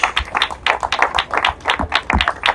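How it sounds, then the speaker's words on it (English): Clapping from an audience, loud and close, a brisk burst of many hands with no voices. "Give a round of applause, everyone."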